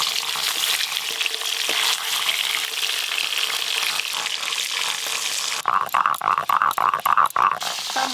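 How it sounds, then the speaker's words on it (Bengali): Fresh fish frying lightly in oil in a pan, a steady broadband sizzle throughout, with sharper crackling spits and stirring clatter near the end. "জ্যান্ত মাছ তো খুব বেশি লাল লাল করে ভাজিনি, একদম হালকা করে ভেজে নিয়েছি।"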